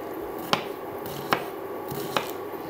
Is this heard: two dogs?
no